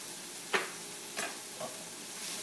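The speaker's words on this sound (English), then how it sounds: "Stir it around." Habanero, shallot and jalapeño being stirred in a pan, with three distinct scraping stirs over a faint, quiet background.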